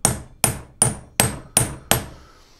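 Six evenly spaced sharp hammer taps ring out close and loud, driving a bearing onto a BMW E36 188 differential during a rebuild, each strike decaying quickly before the next.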